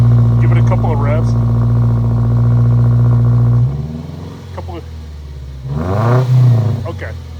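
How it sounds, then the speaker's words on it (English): A Subaru Legacy engine fitted with an aftermarket axle-back muffler idles loudly, then drops off and revs up again with a rising and falling roar, while people talk over it. "Give it a couple of revs."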